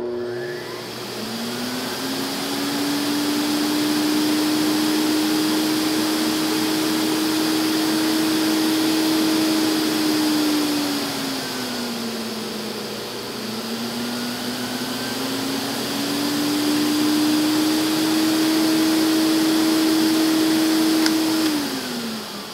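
An ElektraPure vacuum cleaner, an older gray-market import, runs on its highest suction setting with a loud, steady whining drone. The pitch dips and recovers midway, then holds steady, with no voices.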